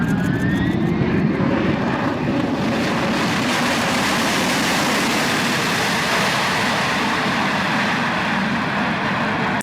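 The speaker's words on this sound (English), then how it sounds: "This plane was landing on a super short runway." A steady, loud airplane engine roar fills the scene, broadband and continuous, with a faint whine rising in the background as the aircraft comes in.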